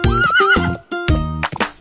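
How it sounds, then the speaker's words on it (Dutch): A horse whinnies loudly and close by in two distinct neighing bursts separated by a short pause. "Ik loop hier met mijn paard"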